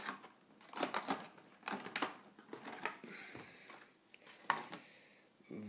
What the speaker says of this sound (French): Nous ouvrons le scotch.